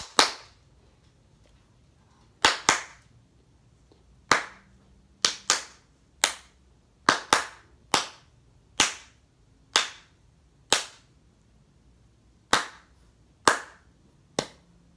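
Sharp single hand claps ring out alone in a loose, uneven rhythm, about eighteen crisp slaps spaced across the stretch with short gaps and occasional quick pairs, fairly close and clear over a quiet background.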